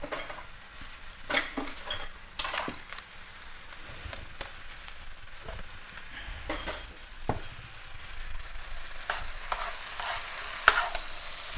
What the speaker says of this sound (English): Mix up the rice with the vegetables just for a couple minutes.